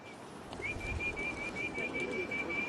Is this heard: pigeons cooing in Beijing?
yes